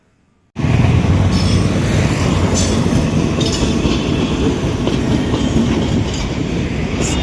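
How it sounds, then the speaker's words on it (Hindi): A train rolls past beside a railway ground in Prayagraj, a loud, steady close rumble with rhythmic clickety-clack of wheels on track that starts abruptly and carries on without pause. "साइड में ट्रेन जा रहा बिया।"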